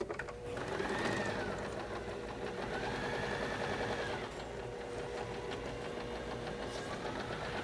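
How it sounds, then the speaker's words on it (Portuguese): A sewing machine stitches a seam across a doll dress, running in a fast, even mechanical chatter that carries on steadily from start to finish. "eu vou passar uma costura de fora a fora"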